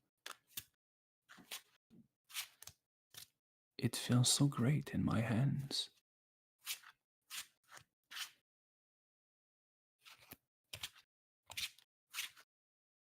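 Magic: The Gathering playing cards are handled and shuffled with scattered crisp snaps and clicks and one longer riffling burst in the middle, all close and quiet, with a voice speaking briefly.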